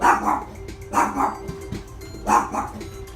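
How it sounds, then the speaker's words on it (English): A dog barks indoors in a room, three loud, close bursts of barking spaced about a second apart, with quieter yips and whimpers between them and no talking. "Dog. Stop barking."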